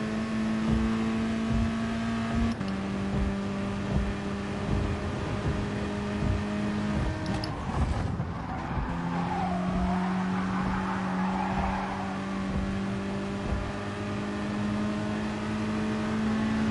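A race car engine revs hard in GT Sport during FIA practice, a sustained high drone with two clear gear-shift drops and a swell of tire and road noise midway.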